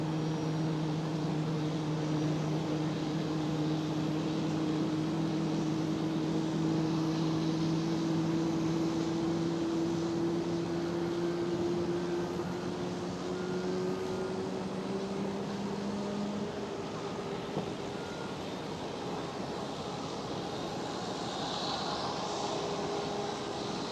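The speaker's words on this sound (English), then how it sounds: "Smoky engine start." An airliner at Schiphol Amsterdam starts a jet engine, giving a loud, steady drone with rising turbine whines that climb in pitch over about twenty seconds, heard continuously without talk.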